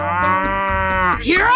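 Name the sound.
cow mooing in a 3D animal video game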